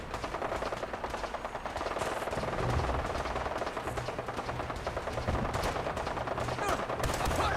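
Rapid automatic gunfire from the Fallout 4 video game rattles continuously and loudly throughout, dense bursts of shots with a steady dull rumble beneath and no clear break.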